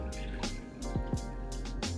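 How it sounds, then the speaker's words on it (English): Water drips and trickles from squeezed homemade rasmalai, a few soft, close wet drops in quiet surroundings. "see all the water is coming down"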